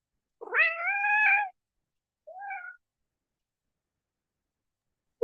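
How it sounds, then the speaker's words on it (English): A pet cat meows close to the microphone during a quiet online meeting: one long, drawn-out meow, then a shorter second one after a pause, and a brief faint sound near the end. "That's a cat."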